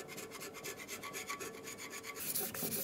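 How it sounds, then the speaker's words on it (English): Rapid rhythmic scraping strokes with a scraper cleaning an intake gasket surface on a Dodge Ram 2500 engine, close and continuous, a rasping back-and-forth with a brighter scrape near the end. "We'll continue on with our scraper"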